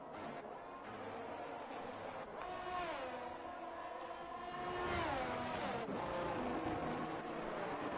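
Race cars circling a wet-threatened track in Japan, engines droning steadily with rising and falling pitch as cars pass, a continuous loud motorsport roar throughout.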